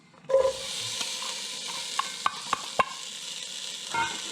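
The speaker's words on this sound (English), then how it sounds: "I've got some butter melted in the Dutch oven. I'm going to add some onion" Onion and diced leek hitting melted butter in a Dutch oven, sizzling loudly right away, then a steady close frying hiss broken by a few sharp stirring clicks against the pot.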